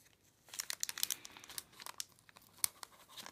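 Scissors snip and crinkle through the plastic wrapping of a Yu-Gi-Oh card pack, producing quiet, close crackling and tearing with several sharp bursts over a few seconds and no talking.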